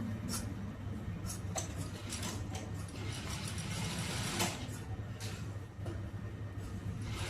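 A sewing machine runs steady dummy basting stitches on a blouse lining, a continuous close mechanical whir with a low hum and light clicks throughout, no voices.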